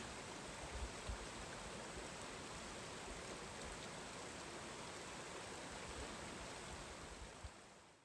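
Water rushes down a loose, slick rock trail climbing a mountain pass in Colorado's Holy Cross Wilderness, a dense, continuous waterfall-like roar heard close and alone, without talk.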